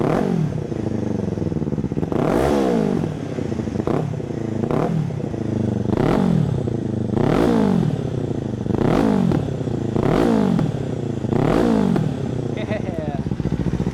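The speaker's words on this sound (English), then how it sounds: "Now we're gonna do a sound check without the baffle in." A Kawasaki Ninja 500 with an Akrapovic exhaust, baffle removed, revs loudly in repeated bursts, roughly every second or so, each rise ending in popping and crackling from the exhaust, close up.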